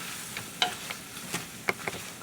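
Apples cook over low heat in four tablespoons of butter in a pan, giving a soft steady sizzle with a few sharp pops and utensil clicks, close and fairly quiet.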